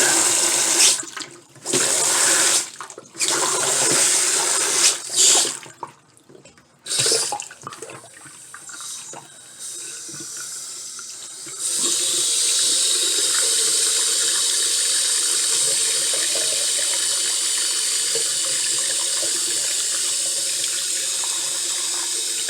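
Hot water runs from a newly installed bathroom sink faucet, first in short on-off bursts and then as a steady, close, continuous rush from the tap into the basin.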